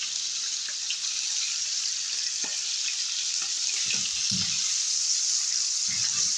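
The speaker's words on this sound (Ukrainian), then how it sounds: "Поки м'ясо наше смажиться" Meat with salt and spices sizzles and crackles in a hot pan, a steady hiss with scattered pops and a few soft clinks of stirring.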